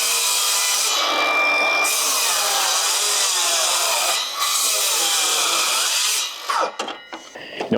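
An AEG miter saw cuts 140mm wooden decking boards for a deck over a concrete slab: a loud, close whine of the blade biting through wood, running steadily for several seconds before spinning down with a few clunks.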